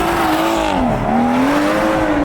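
A BMW M140i fitted with a hybrid turbo runs hard at full throttle on a freezing day, its engine note loud and sustained. The pitch climbs, dips briefly, then climbs again as it pulls through a gear.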